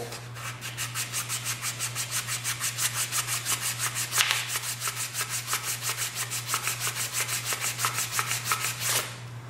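Sandpaper is rubbed by hand in long, even back-and-forth strokes, making a rhythmic rasping scrape that repeats steadily and close up for about nine seconds, with a faint constant hum beneath and no talk.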